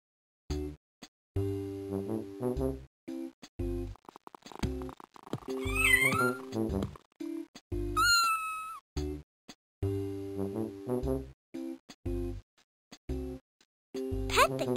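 Kittens meowing in the farm video game Maggie's Farmyard Adventure: a couple of short, high meows set among choppy, steady game music and tones, with a character's voice speaking at times.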